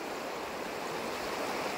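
The Ulbi river flowing, a steady broad rush of moving water, even and quiet, with no voices over it.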